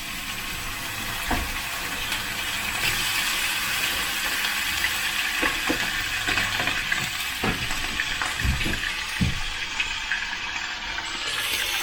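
Back bacon sizzles steadily in a frying pan, a continuous close crackle with occasional sharper pops and soft clinks of the pan scattered throughout.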